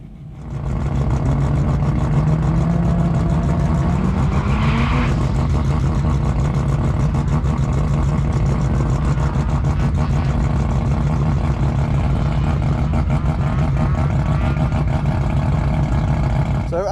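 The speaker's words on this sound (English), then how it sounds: "So we'll hear the gearbox go through. I won't change the gears by myself, but I'll just yeah, let it go through the gears." A Hyundai IONIQ 6 N electric car accelerating hard in N shift mode, its synthetic engine sound loud and continuous, rising in pitch and dropping at simulated gear shifts.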